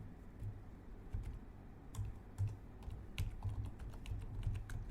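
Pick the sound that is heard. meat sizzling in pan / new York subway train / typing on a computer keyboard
typing on a computer keyboard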